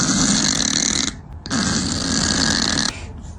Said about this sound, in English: I didn't know cats could snore like that.